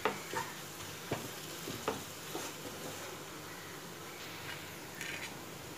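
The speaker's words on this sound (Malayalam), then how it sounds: "ചേർത്ത് നന്നായി ഇളക്കുക, കരിഞ്ഞു പോരുത്" Chili and chili powder fry in a pan for dry fish chammanthi, a soft steady sizzle with a few spoon knocks and stirring scrapes, quiet and close.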